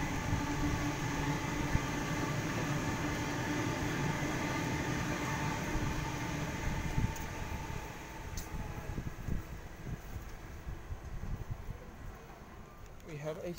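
A Sydney Waratah A-set passenger train, set A8 on a Hornsby via North Shore service at Newtown, passes with a steady, fairly loud rolling rumble that holds for several seconds, then thins and fades as it moves away.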